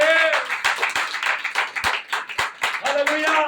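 A church congregation clapping together in thanks to the Lord, a steady run of rhythmic handclaps heard under a voice speaking and chanting over them.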